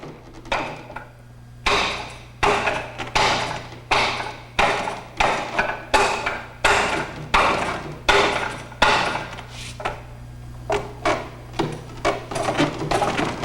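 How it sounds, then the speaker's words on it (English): Rapid strikes land on a wooden training dummy during martial arts drills, a loud run of sharp wooden knocks at a steady pace over a low constant hum, with short pauses between bursts. "These drills aid the practitioner in also developing the proper dynamic force in impacting the dummy."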